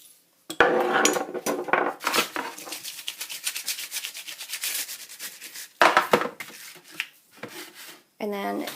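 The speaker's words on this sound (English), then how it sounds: "I'm just going to take my regular salt and sprinkle it all over" Regular salt is sprinkled by hand all over a baking sheet of treats in a home kitchen, making a close, dense gritty patter and rustle in uneven bursts, with a short voiced sound at the very end.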